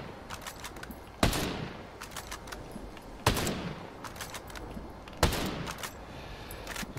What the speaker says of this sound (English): How quickly we're going to be able to get rounds off on rapid fire, I have no idea